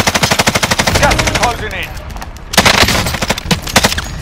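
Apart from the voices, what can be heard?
gunfire in a video game shooter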